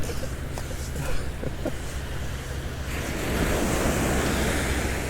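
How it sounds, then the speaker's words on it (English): Ocean surf rolling onto a beach on Florida's calm west coast, a steady wash of breaking waves that swells louder toward the end, with wind buffeting the microphone throughout. "Waves are coming in a little bit."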